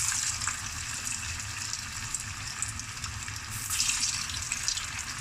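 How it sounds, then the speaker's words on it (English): Steady crackling sizzle of Manchurian balls deep-frying in hot oil, continuous and close, with bubbling that swells briefly toward the end. "You should get the sizzling noise."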